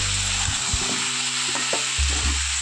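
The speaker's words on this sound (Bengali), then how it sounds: "খুব ভালো করে এটা ভেজে নিই।" Tomatoes frying in a pan alongside potatoes, a constant sizzle punctuated by a few clunks and scrapes of stirring, plus a low hum that comes and goes, without talk.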